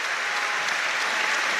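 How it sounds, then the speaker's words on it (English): A stadium crowd at a North Macedonia versus Wales World Cup qualifying football match applauds steadily, a dense, continuous wash of clapping from thousands of spectators on their feet, with no voices standing out. "Every spectator on their feet applauding, and nearly every spectator has their mobile phone torch on."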